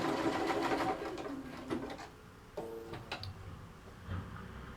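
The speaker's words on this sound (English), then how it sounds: "I'm just going to sew that down." A sewing machine stitches a fabric purse panel, with a close, steady whir at first, then slower irregular bursts and clicks as stitching stops and starts.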